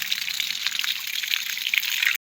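Farm drip-irrigation water running steadily with a soft, bubbly gush and light trickling, constant and fairly close, with no one speaking.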